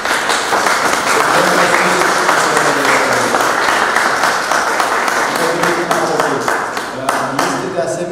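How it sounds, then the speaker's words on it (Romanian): Crowd at the opening of a collective art exhibition from a sculpture and painting camp applauds loudly and continuously, with sharper individual claps standing out near the end and voices mixed in under the clapping. "haideți să aplaudăm încă o dată"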